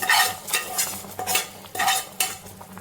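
A spoon scrapes and swishes through a pot of sago and vermicelli payasam as it cooks, in repeated uneven stirring strokes, close and fairly loud, with no talking.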